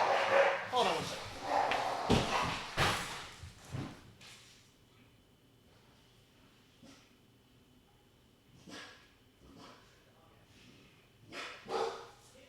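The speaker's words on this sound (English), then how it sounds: "The dog's just absolutely freaked out at another dog outside." A dog indoors barks and whines at another dog outside, loud sharp bursts in the first few seconds, then a few quieter yelps and barks later on, with people talking over it.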